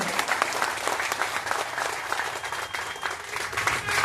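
A crowd applauds steadily at a felicitation ceremony, dense clapping from many hands filling the whole stretch, loud and continuous.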